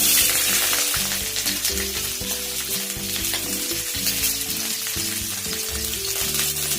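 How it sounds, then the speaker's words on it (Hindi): Cabbage dropped into hot ghee in an iron pan, a loud, dense sizzle and crackle that stays steady throughout, with stirring noises mixed in and no talking. "हम लोहिया चढ़ा के एहिमे गरम क के घी द रहल छिए। एते 2 चम्मच लक एहिमे की करब, पहले हम कोबी द रहल छिए।"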